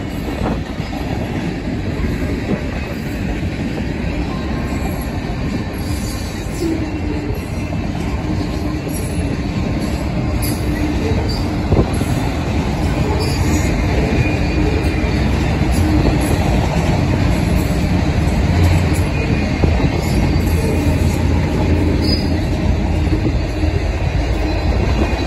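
A long freight train rumbles past steadily and close, wheels clacking and occasional squeals, a continuous heavy roar that lasts the whole stretch.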